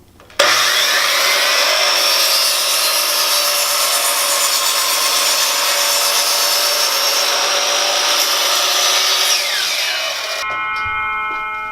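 A hand saw cuts steadily through a wooden block for a large homemade yard die, a continuous rasping stroke-after-stroke sound that is loud and close, then stops abruptly near the end.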